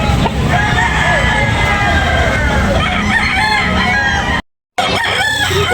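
A rooster crows repeatedly and loudly nearby at a poultry market in Tabunok, Talisay, with clucking fowl and background chatter; the sound cuts out briefly near the end before resuming.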